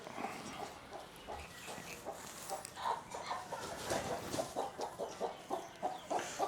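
A chicken clucks repeatedly nearby in short rhythmic bursts over a background of outdoor noise and other faint animal sounds.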